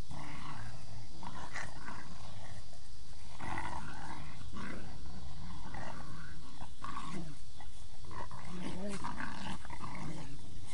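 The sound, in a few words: AKC dogs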